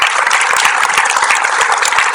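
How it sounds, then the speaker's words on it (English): An audience at a SCI Talks presentation breaks into dense, loud applause, with many hands clapping together in a continuous roar that holds steady for the whole moment. "So another round of applause,"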